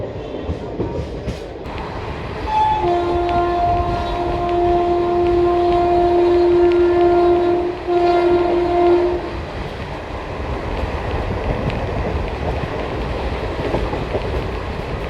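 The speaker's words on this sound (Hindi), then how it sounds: "अभी पानीपत से चल चुकी है अपनी ट्रेन।" Delhi Fazilka Intercity Express pulling out of Panipat Junction: a long, loud, steady horn blast sounds for several seconds over the rumble of the moving train, then the running noise carries on alone.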